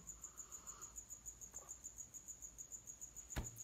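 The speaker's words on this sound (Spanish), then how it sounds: "¡Ay, el grillo! ¡Espanta al grillo, Inge!" A cricket chirps at night in a steady, rapid, high-pitched pulse close by, continuing alone through the stretch with a brief clatter near the end.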